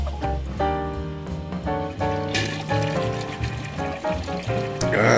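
A toilet flushing with bubbling, gurgling water and a rushing swirl, loud and close, ending in a sharper burst of rushing water.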